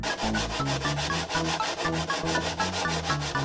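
Wood being sanded for a table saw insert, a steady rhythmic rubbing of strokes repeating several times a second, close and fairly loud throughout with no voices.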